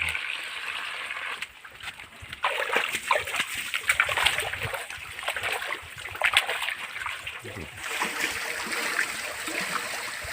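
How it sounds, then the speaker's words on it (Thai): Bundled water spinach being washed by hand in water, with continuous splashing and sloshing that comes and goes in close, moderate bursts. "เสร็จแล้วถึงจะนำมาล้างน้ำให้สะอาดค่ะ"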